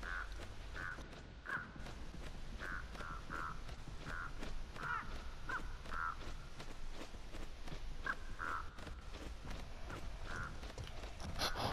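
A crow in the Dead by Daylight video game caws repeatedly in irregular bursts over nearly twelve seconds, harsh and fairly close, with faint clicking and footstep-like taps scattered beneath.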